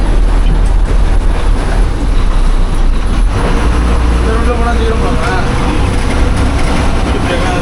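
A PRTC bus overtaking on the road between Nagai and Ramnad: a loud, steady engine roar and road rumble from inside the bus, with faint voices under the noise.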